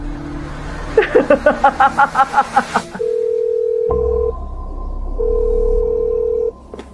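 A quick run of touch-tone dialing beeps, then long, steady ringing tones repeat on the line with no one picking up.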